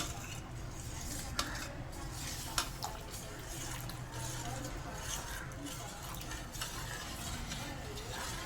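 Custard powder stirred into cooked vermicelli in a pan, a steady scraping and swishing of a spoon against metal that runs throughout, close and moderately loud with faint sizzling underneath.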